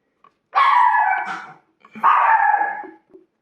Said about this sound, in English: Sorry, I had to go shut my dogs up.